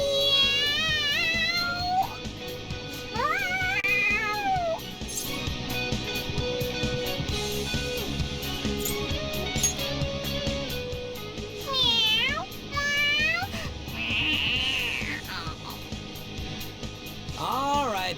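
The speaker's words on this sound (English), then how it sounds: "The cat's acting awfully excited." A cat in the Persona 5 video game meows repeatedly in rising and falling cries, some long and excited, layered with game music. Character voices speak in between.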